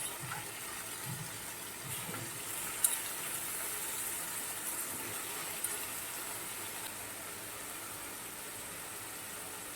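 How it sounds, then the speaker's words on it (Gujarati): Chopped potatoes sizzle in a pan for a green potato curry, a steady, even hiss throughout with a faint tap or two and no voices. "હવે આપણે જે બટાકા સમાર્યા હતા તે નાખી દઈશું"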